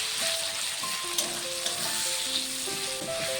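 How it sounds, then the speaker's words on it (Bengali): Chopped onion sizzles in hot oil as it is stirred in a pan for mutton curry, a steady close crackle with occasional spoon scrapes. "এখন এই তেলের মধ্যেই দিয়ে দেবো পেঁয়াজ কুচি। পেঁয়াজটিকে দিয়ে একটু সুন্দর করে নেড়ে ছেড়ে নেব।"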